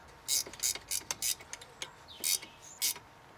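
A worn 12 mm Facom wrench tightens a brake caliper bolt on a Chrysler PT Cruiser during a pad change, giving short, close bursts of ratcheting metallic clicks separated by brief pauses.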